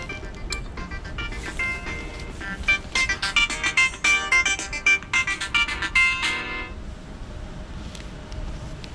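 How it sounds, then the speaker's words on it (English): A mobile phone ringtone plays a pulsing electronic melody in repeated bursts for several seconds, moderately loud over background noise in a shop, then cuts off. "Sorry, that was my phone."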